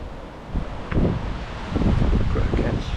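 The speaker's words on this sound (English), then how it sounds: "It's quite windy" Gusty wind buffeting the microphone outdoors, rising and falling in loud rumbling bursts with a rustling hiss underneath.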